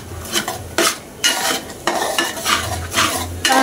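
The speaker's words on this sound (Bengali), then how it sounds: "সুন্দর করে নাড়াচাড়া করব যেন দলা না পেকে যায়।" Eggs are stirred in a pan over low heat, a utensil scraping in repeated strokes about every half second over a soft sizzle of frying egg, close and steady, with no talking.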